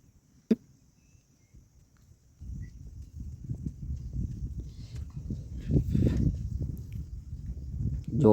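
A mare suffering from colic moves about, her hooves clip-clopping and shuffling in a steady, uneven stream of low thuds that grows louder and busier toward the end, after one sharp knock near the start.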